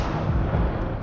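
An Incendio fire spell is cast in Hogwarts Legacy, producing a brief, loud, roaring whoosh of flame that holds steady for about a second before cutting off.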